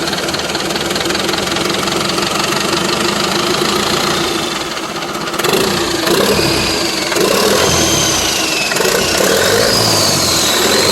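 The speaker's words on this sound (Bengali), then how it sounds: "জাস্ট ইঞ্জিনের সাউন্ডটা আপনাদেরকে শোনাবো" The heavy diesel engine of an Eicher 1080 truck runs loudly and steadily with a knocking rumble, briefly easing before surging again as the accelerator is worked, close up and without talk.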